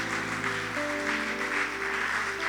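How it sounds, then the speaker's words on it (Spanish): A congregation at the closing of a Holy Spirit church congress claps loudly and continuously, a dense wash of hands over sustained musical tones underneath. "Dale un fuerte aplauso al Espíritu Santo."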